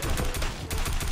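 A tactical assault rifle fires in a video game, giving a steady stream of rapid, evenly spaced shots throughout a short burst at moderate volume, with no talk over it.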